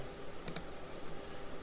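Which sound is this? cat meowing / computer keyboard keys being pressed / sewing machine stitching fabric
computer keyboard keys being pressed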